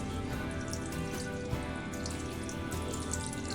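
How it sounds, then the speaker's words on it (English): Leftover water trickling and dripping out of a toilet tank as the old fill valve is pulled, a steady close wash of drips and splashes with no voices. "we're going to start seeing some water leak out. Just what's left in the tank"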